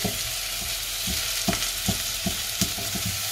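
Pasta with tuna being stirred in a small hot cooking pot, a steady fry sizzle under repeated soft scraping strokes of the spoon, close and without speech.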